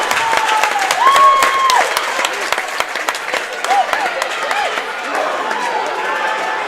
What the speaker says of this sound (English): Oh, yeah, here's the home crowd right there.